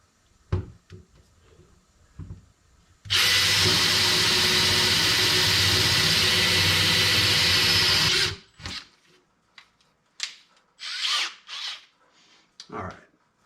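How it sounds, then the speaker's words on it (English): A power drill bores a 1/2 inch hole in a dust collector lid, a loud steady whine lasting about five seconds, with clunks and handling noises before and after. "So I'm going to drill a 1/2 inch hole"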